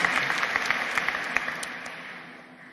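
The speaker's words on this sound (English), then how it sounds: "Please give yourselves a round of applause." An audience at the Fordham University School of Law 2018 commencement applauds with dense, sustained clapping that slowly fades toward the end.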